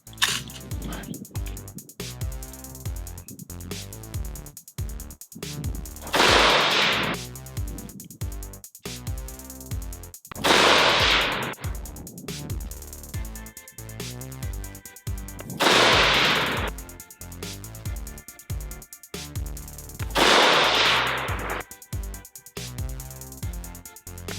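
A Savage MSR 15 Recon AR-15 rifle firing Gorilla 55 grain Sierra Blitzkrieg ammunition at an outdoor range, four loud cracking shots spaced several seconds apart, each with a brief ringing echo, amid rapid clicking and handling noise.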